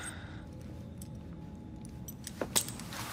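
A bunch of keys jingles as it is handed over in Assassin's Creed Syndicate, a short metallic jangle near the end over a low ambient hum, with no talking.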